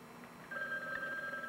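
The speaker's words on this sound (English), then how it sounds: "Ethel, let Margie answer the phone." Telephone ringing indoors during a family dinner scene, a steady electronic bell tone that starts partway through and holds, fairly quiet, with no talk over it.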